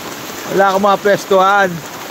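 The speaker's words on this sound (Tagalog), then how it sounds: "Lalong lumalakas ang ulan." Heavy rain pours down steadily during a typhoon as a continuous hiss, while someone speaks over it nearby.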